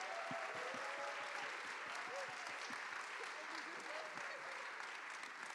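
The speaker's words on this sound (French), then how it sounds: "je pense qu'on peut vraiment l'applaudir" An audience at a conference applauds in steady, sustained clapping that fills the room throughout, with a voice faintly present beneath it.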